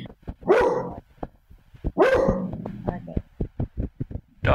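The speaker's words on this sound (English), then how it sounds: "Dog is very protective." A protective dog barking loudly and close, two sharp barks with a few quicker yips between them, while people talk over an online call.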